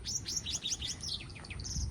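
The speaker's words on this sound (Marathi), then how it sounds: "पक्ष्यांचा आवाज बघा" Several birds chirp in quick, bright bursts close by near the Gavase dam bridge, their calls overlapping against a low background rumble.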